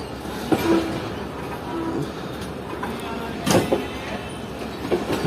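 The Pak Business Express train pulls away from Nawabshah station with a continuous rumble, broken by occasional sharp clanks and knocks from the cars as it gathers motion.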